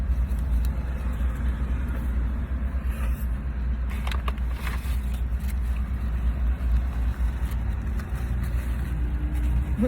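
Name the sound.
Dodge Ram car driving past on the road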